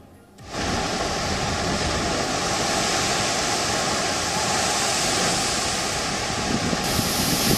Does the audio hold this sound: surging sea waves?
yes